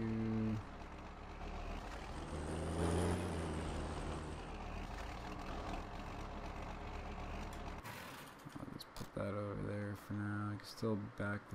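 A truck engine idles and revs steadily while reversing a trailer in the farming game Farming Simulator 19, a continuous low drone with a shift in tone near the end, as clunks and rhythmic mechanical pulses take over.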